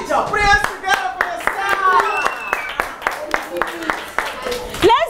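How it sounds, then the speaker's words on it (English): Children clap together in a group, a loose run of sharp hand claps repeating steadily at close range, with voices and tonal chatter mixed in throughout. "Put your hands together for them."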